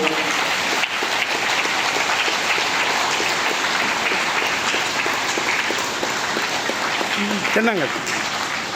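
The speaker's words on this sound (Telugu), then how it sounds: "గట్టిగా క్లాస్ కొడదాం అందరూ" Audience at a peaceful meditation gathering claps loudly and steadily to welcome a guest onto the stage, a dense sustained applause throughout.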